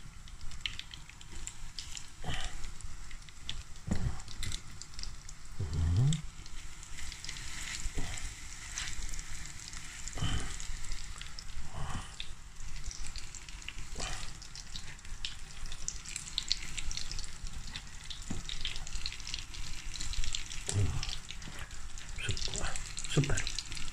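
Breaded chicken frying in a pan, a steady broadband sizzle running throughout with occasional louder pops and clinks, with talk over it.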